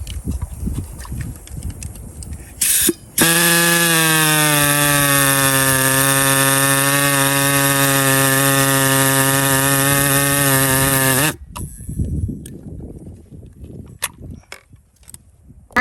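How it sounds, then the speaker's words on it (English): A power tool cuts PVC pipe at a building site, producing a loud, steady high-pitched whine with strong harmonics for about eight seconds before stopping abruptly, with scattered knocks and handling noise around it. "So you need to cut the PVC off around that just a little lower"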